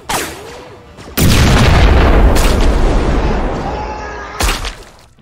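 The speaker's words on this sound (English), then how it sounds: "he launched one of his concussion grenades into their midst." A concussion grenade explosion sound effect in a Star Wars audiobook, a sudden heavy boom followed by a long roaring rumble that fades, then a second sharp blast near the end, very loud.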